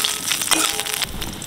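Panch phoron and green chillies hit hot oil in a pan, giving a loud, close, continuous crackling sizzle with no one speaking.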